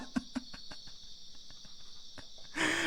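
Crickets chirp steadily in the video game Final Fantasy VIII, a constant high insect trill with a few soft pulses under it, and a louder burst of noise cuts in at the end.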